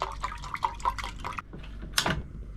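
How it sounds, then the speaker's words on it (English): Salt water splashes and trickles into a metal billy can outdoors, a run of close drips and small pours followed by one brighter splash, with no talk. "Chuck a little bit of that salt water into this billy here."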